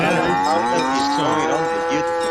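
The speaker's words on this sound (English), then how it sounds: "When I say cow and cowbell, that means there's a cows mooing and a cowbell ringing because there's a super chat going" A cow moos loudly and close, its long drawn-out lowing sliding in pitch, while a faint cowbell may ring beneath it as a super chat alert during a live stream.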